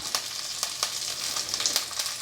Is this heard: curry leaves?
yes